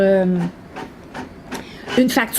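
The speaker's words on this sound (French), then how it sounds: "Le système va imprimer 2 factures." An office printer outputs two invoices, giving a series of rhythmic mechanical feed and print bursts in short repeating pulses, with a person talking at the start and end.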